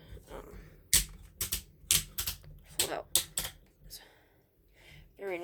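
The ratcheting arm joints of a Transformers Siege Jetfire toy give a series of sharp, close plastic clicks in quick bursts, with quieter handling noise between them.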